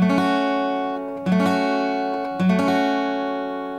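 Three strummed barre chords on an acoustic guitar, each struck firmly and left to ring out before the next, evenly spaced and close.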